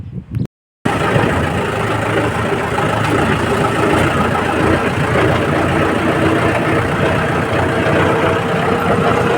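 A Massey tractor's diesel engine idles steadily nearby with a low, continuous rumble and rattle, after a brief silent gap at the start; no talking.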